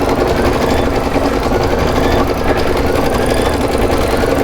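A Kimberbell embroidery machine stitches steadily in a loud, close, continuous mechanical hum with a fine rapid rattle, running alone without talk.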